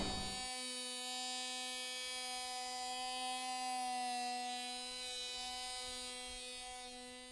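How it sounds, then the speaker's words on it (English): Power grinder facing off the edge of an epoxy-filled area on a boat before fiberglassing, a steady high-pitched whine with a strong tonal buzz running continuously from a sharp start, fairly loud and close, with no talking. "we'll grind this down or face this edge off so that we can put some fiberglass there"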